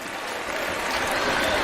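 Stadium crowd at a Texas Tech vs Wyoming college football game, a broad continuous roar of cheering and clapping that swells slightly over a short stretch.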